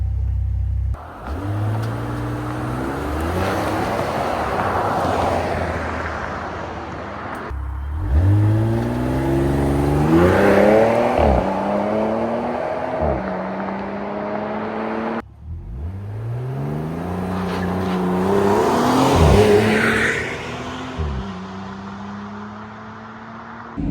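A loud RAM 1500 pickup with a Hurricane engine and Flowmaster 818196 muffler revs hard three times, exhaust roaring as it climbs in pitch, with brief drops between each run, close and steady throughout.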